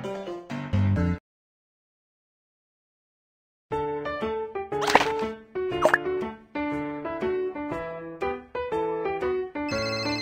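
A cartoon telephone rings with a bright electronic melody of repeated tones, loud and close, after a short burst of sound and a silent gap, the tune carrying on in a steady rhythm to the end.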